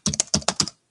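A quick burst of keystrokes, about six sharp clicks in an uneven rhythm, close up, then silence.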